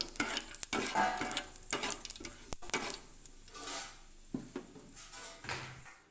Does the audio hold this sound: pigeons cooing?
no